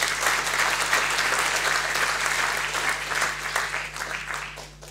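Audience applauds the president of the Palais littéraire at a literary lecture: a dense, even round of clapping from a sizable room, close and sustained, tapering slightly at the end over a low steady hum.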